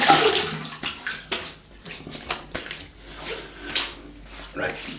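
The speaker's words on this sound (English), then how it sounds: "let's wet the face and we shall get going" Water splashing from a sink as hands wet a face before a wet shave, a series of close, uneven splashes and drips separated by short pauses.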